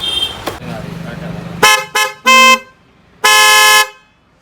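A Hella chrome twin-tone car horn fitted to a 2022 Alto K10 sounds in several short blasts and one longer honk, loud and close, after a stretch of background talk.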